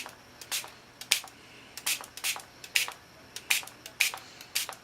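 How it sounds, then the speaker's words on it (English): A hand-pumped spray bottle of water is squeezed upside down over watercolor paper. It gives about a dozen short, sharp hissing bursts in an uneven rhythm, close up, with no talking. "My spray bottle doesn't want to work upside down."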